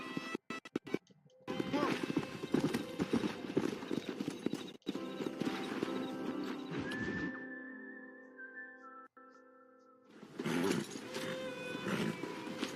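Horses in the Red Dead Redemption video game, with busy clip-clop hoofbeats and rustling over a continuous game music bed, fading to a quiet stretch before the bustle returns near the end.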